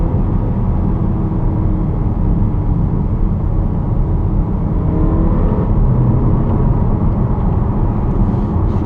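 A Skoda Superb 1.8 TSI with DSG gearbox pulling hard on a test drive, its engine a loud, steady low drone under heavy road and wind roar throughout, heard from inside the cabin.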